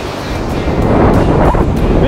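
Ocean breakers roll and crash onto a beach in a continuous loud wash of surf, with wind buffeting the microphone throughout.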